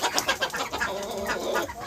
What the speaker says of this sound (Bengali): দেশি মুরগি।